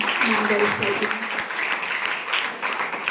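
A short burst of applause from a crowd, clapping rising and continuing for about three seconds, with a voice speaking over it.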